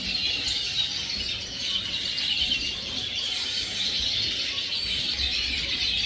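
A flock of aviary birds twitters and chirps continuously, with dense overlapping calls at moderate distance and no voices.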